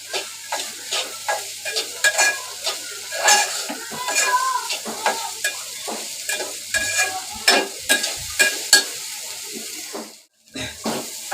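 Okra bhaji being stirred in a pan over a high flame, with a continuous sizzle broken by rhythmic spatula scrapes and clinks against the pan, close and fairly loud, with a brief pause near the end.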